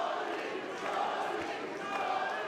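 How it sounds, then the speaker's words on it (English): Boxing crowd at a fourth-round fight between Sean Monaghan and Rayco Saunders, a steady, dense roar of voices urging the fighter on, continuous and fairly loud throughout with no single voice standing out. "Crowd urging Shawnee Monahan on."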